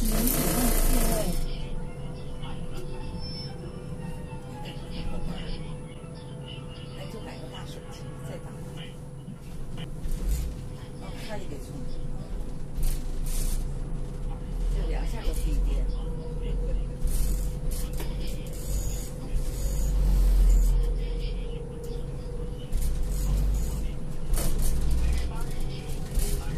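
City bus on route 7 in Dalian, China, running in winter: a steady low engine drone and road rumble with rattles and hiss, heard from inside the bus, with a recorded announcement voice speaking over it.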